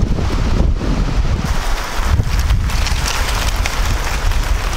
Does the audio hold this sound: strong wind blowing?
yes